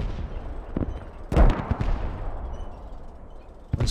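A single sharp gunshot cracks out in the Post Scriptum war game, close and loud above a steady rumble of battlefield noise, with a couple of fainter shots before and after it.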